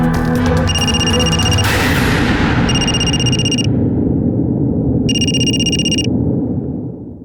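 A phone call dialing out on speakerphone, with bursts of electronic ringback tone repeating at steady intervals over a dense, noisy background, the tone loud and clear in each burst.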